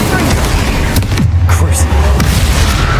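Fire-blast spell explosions in the Hogwarts Legacy video game, loud booming blasts with a deep rumbling tail, close and overlapping amid dense game combat noise.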